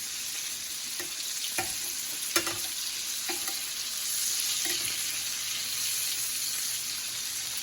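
Steak bites fry in a pan of herbed butter, a loud continuous sizzle with a few soft clinks and scrapes from spooning butter over the meat.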